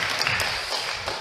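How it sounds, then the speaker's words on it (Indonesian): Brief applause at a children's Sunday school service, a short burst of clapping at moderate level with a few sharper claps standing out. "tepuk tangan dulu untuk Kerry."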